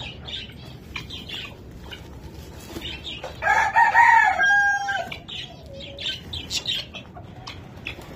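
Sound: chickens clucking on a small farm

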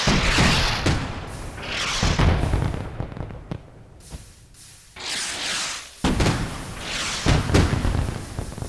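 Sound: fireworks rockets exploding on 4th of July

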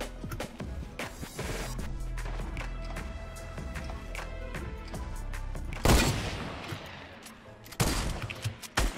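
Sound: grenade launcher firing in video game Fortnite

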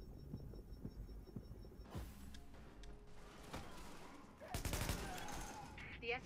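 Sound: heavy gunfire from a roof in the video game The Division

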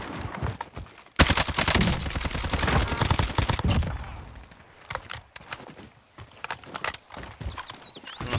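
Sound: gunfire in Call of Duty Cold War Warzone video game

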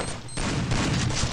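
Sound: gunshot in a video game

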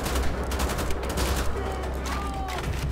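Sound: assault rifle gunfire in the video game Wolfenstein: The Old Blood

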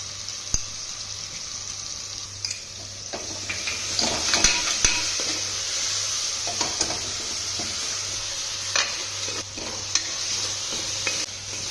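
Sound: ginger garlic paste frying in a pan for methi biryani

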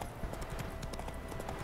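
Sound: horse galloping in video game The Witcher 3

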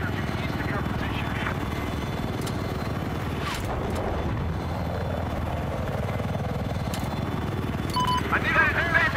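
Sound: helicopter flying in the video game Battlefield 4

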